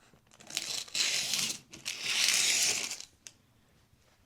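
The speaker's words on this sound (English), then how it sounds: "So here's our parchment, and I'm gonna grab a pair of scissors." A full sheet of parchment paper being cut in half with scissors while making a dessert: close, crisp rustling and crinkling in two long sustained passes with brief pauses, ending in a few faint snips, with no talking.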